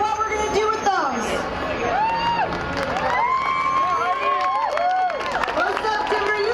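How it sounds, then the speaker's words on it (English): A crowd at a Timber Unity cap-and-trade rally cheers and whoops with scattered clapping, a dense and steady swell of voices that holds at full strength throughout. "Give her a big round of applause"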